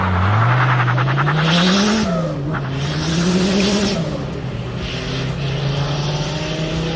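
A Dodge Viper V10 engine revs hard and loud, climbing twice in pitch before settling into a sustained high-rpm drone with a slight tire-like whine.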